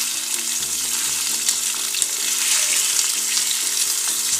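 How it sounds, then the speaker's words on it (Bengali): Ripe hog plums stirred into hot oil seasoned with panch phoron give a steady, close sizzle with soft scraping from the stirring, and no one speaks. "এখন আমি সাথে সাথে আমরাগুলো, পাকা আমরাগুলো দিয়ে দিব, দিয়ে এটাকে একটু নাড়াচাড়া করব,"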